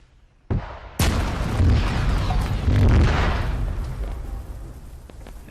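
A C4 charge detonates in Arma 3 with a sharp blast followed by a loud, rolling boom that rumbles for several seconds and fades slowly.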